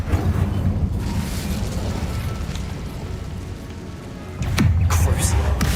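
Incendio fire spell cast in the Hogwarts Legacy video game: a loud whooshing burst of flame flares up late, on top of a steady roaring game ambience, with a voice speaking alongside.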